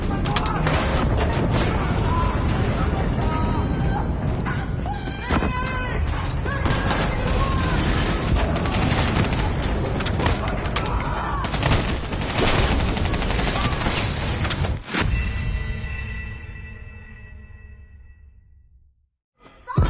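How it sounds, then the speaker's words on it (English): Dense, continuous gunfire and booming explosions in the video game Call of Duty: Black Ops III fill the scene loudly, with voices under the din, before the barrage cuts off and fades near the end. "Hendricks, we have multiple explosions across the facility"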